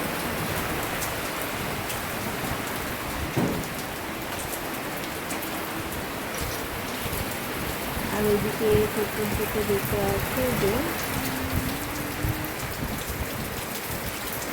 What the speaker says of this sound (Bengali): জানি না বৃষ্টিটা কতক্ষণ হবে, সারাদিনই মনে হয় বৃষ্টিটা হবে।